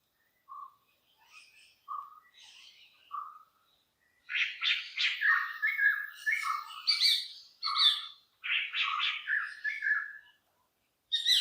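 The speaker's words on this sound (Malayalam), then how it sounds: "ഒന്ന് കേൾക്കേ നല്ല എന്താ കിളികളുടെ സൗണ്ടൊക്കെ കേൾക്കാം" Birds call in a quiet mahogany plantation forest in Malayattoor, Kerala, a few short separate chirps at first, then a busy run of varied trills and tweets, fairly close and clear.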